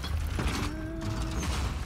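A stone puzzle mechanism grinds as a piece slides away in Uncharted: The Lost Legacy, giving a steady mechanical creak and scrape with a rising tonal squeal over a low rumbling room tone, close and continuous for about two seconds.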